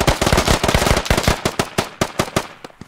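Gunfire in a first-person shooter video game, in a rapid burst of loud cracking shots that thins toward the end into sparser single reports.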